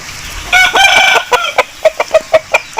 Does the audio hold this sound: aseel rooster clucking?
yes